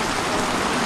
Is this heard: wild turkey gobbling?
no